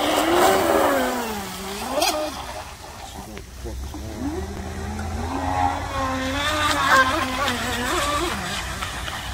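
A homemade 4S RC speed boat with an X445 propeller whines across the water, its high motor pitch sweeping up and down as it turns and accelerates, moderately loud, with some wind noise.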